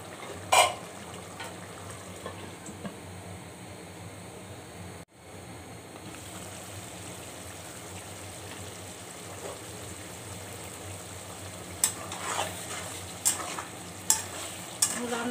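Chicken tikka masala simmers in a pan with a steady, soft sizzle, broken by a few sharp scraping clicks of a spoon stirring it, near but fairly quiet.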